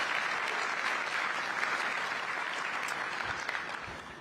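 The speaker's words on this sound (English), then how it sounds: "Let's give her a round of applause." An audience at the Skyline grand opening ceremony applauds with steady, even clapping from a moderately distant crowd, fading slightly at the end.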